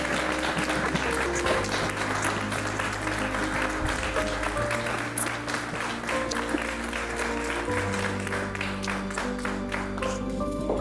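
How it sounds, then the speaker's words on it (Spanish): An audience gives a welcoming round of applause at a diversity day event, steady clapping filling the room throughout while sustained tonal music plays underneath at a moderate level. "Démosle un fuerte aplauso de bienvenida"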